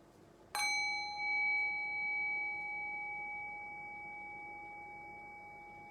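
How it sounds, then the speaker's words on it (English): Meditation bell struck once, a clear bright ring that lingers and slowly fades into quiet over several seconds. "Rest your thinking mind on the sound of the bell. Allow the decay of the bell to bring your awareness into silence."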